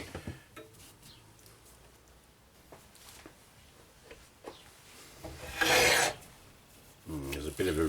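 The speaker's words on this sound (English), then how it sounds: "I'll give it a sand down now anyway" A wooden fruit bowl being sanded on a lathe gives a raspy, rubbing hiss that comes in uneven passes, with one loud sustained scrape near the end over faint workshop noise.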